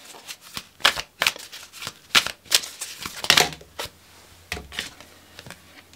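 Oracle cards being shuffled by hand, a rapid series of crisp riffling and slapping bursts at a close distance with brief pauses between, with no talking.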